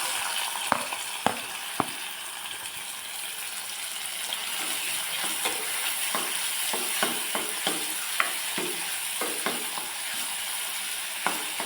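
Tomato and onion sizzle in hot oil in a kadai, a steady soft frying hiss with scattered clicks and taps from stirring, heard close and without talk.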